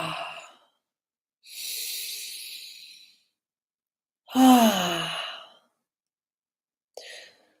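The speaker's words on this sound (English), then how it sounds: "Take a few deep breaths here." Slow deep breaths during a guided meditation, a soft inhale followed by a longer audible sighing exhale, then a final short breath, close and clear with silent pauses between.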